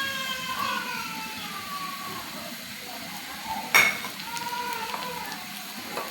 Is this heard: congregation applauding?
no